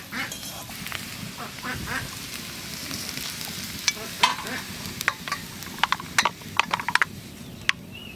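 Bread chop filling with coriander leaves is stirred in a hot pan: a steady sizzle runs underneath while a spatula scrapes and clicks irregularly, the sharp taps growing denser toward the end, with no talking.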